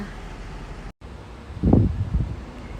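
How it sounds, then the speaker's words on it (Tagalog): Gusty wind outdoors in Hong Kong during a typhoon signal 8, a steady low rush that briefly cuts out, then swells into a louder buffeting gust before easing. "Ayan, malakas yung hangin."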